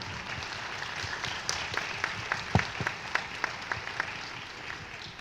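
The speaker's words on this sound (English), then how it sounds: "Let's give them a round of applause to teacher Marty, teacher Brian, teacher Gaby, and teacher Edu" A crowd at a speech contest applauds the teachers with sustained clapping from many hands. A handful of louder, closer claps ring out above the steady roar, and no one speaks.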